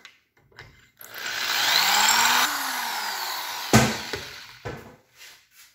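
A power drill whirs up and bores steadily for a couple of seconds drilling a wedge anchor bolt hole, then winds down, followed by a few sharp knocks and clatters nearby.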